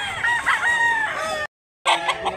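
A rooster at a chicken sale in Mantalungon, Barili, Cebu crows loudly and close, a drawn-out call cut by a brief gap before a second crow begins.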